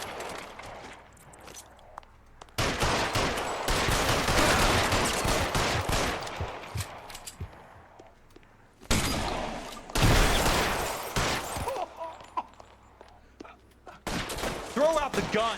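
Rapid bursts of gunfire in an L.A. Noire shootout, dense fusillades of loud close shots in two long volleys with short pauses and scattered single shots between, a voice briefly heard in the gaps.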